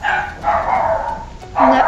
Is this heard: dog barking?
yes